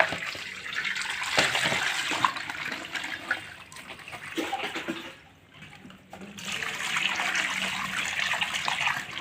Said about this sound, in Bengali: আর একবার ধুয়ে নেব ভালো করে।